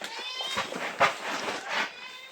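A small cat at a campsite meows several times in a row, close and fairly loud, with tonal cries rising and falling.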